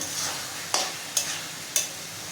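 Chicken mince with spices stir-fried in a pan gives a steady close sizzle, broken by three evenly spaced scraping strokes of the spatula.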